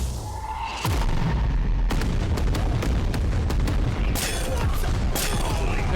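Heavy anime-style explosive booms from Shion's barrage attack, a dense rapid series of deep impacts and crackling blasts, loud and close, rolling one after another with a brief rising build-up at the start.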